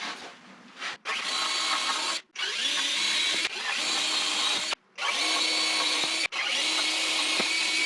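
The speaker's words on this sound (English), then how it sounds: "I'm just going to pre-drill the hole the rest of the way through with a drill bit." A power drill bores through a 2x4 in several long bursts of whining motor and cutting, briefly stopping between runs, loud and close with no voices.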